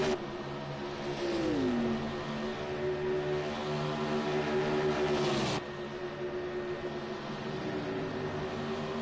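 Race car engines in the Project CARS 2 racing game at Daytona, a steady loud drone of several cars with rising and falling revs and gear shifts, and an abrupt change in tone midway, with no talking.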